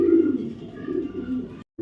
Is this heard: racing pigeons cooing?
yes